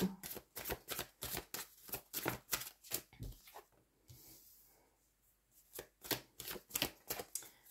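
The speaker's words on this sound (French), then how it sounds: "il faut que je garde les cartes comme elles sont tombées" Tarot cards being shuffled in a quiet room, a fast run of crisp riffling flicks and slaps in steady bursts, pausing midway for a softer rub before the brisk shuffling picks up again, close and fairly quiet.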